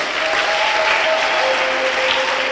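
Congregation applauding steadily at a church service, dense clapping filling the room, loud and continuous from start to finish with no talk.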